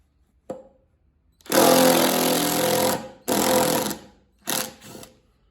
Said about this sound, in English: So now this is the impact driver.